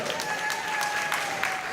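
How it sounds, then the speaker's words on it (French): A convention audience at the Paris Manga & Sci-Fi Show claps for a guest, a dense, steady wash of applause filling the short moment at close range. "Une salle d'applaudissements pour Loudermilk, Loudermilk."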